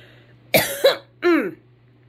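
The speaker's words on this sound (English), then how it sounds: "Sorry, I had to clear my throat." A person clears their throat nearby in two or three short, rough bursts, the last one drawn out, with no speech.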